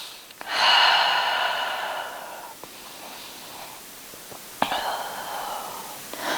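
Slow audible breaths in and out during a gentle yoga forward fold, soft airy breathing close to the microphone with quieter gaps between them.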